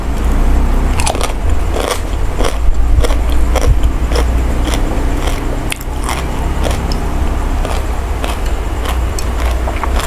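Close, repeated crunchy bites and chewing while someone eats a meal, with crisp crackles at an irregular rhythm over faint background traffic.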